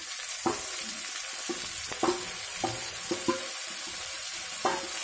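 Boiled snake gourd pieces are stirred in a pan, with a series of separate scraping, clattering strokes at an irregular pace over a steady, soft frying hiss.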